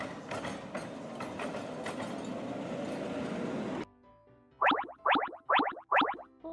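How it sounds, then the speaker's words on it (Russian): A tram rolls along iron rails with a continuous rumbling clatter and rhythmic clicks for several seconds. It then cuts off, and a series of short, loud tonal bursts follows. "Трамвай! Он передвигается по железным рельсам."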